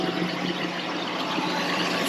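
A 2003 GMC Sierra pickup engine idles steadily, a smooth, even hum holding at constant level throughout with no speech over it.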